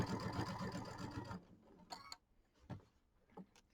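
Sewing machine stitching quilt pieces with light gray thread, a fast close mechanical whirr for over a second, then stopping, followed by a few soft clicks and handling sounds.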